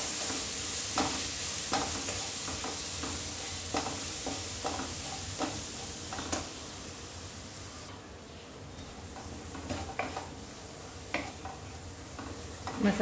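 Masala frying in a pan while being stirred, a constant hiss of sizzling with regular light scrapes and taps of the spoon against the pan, close and steady throughout.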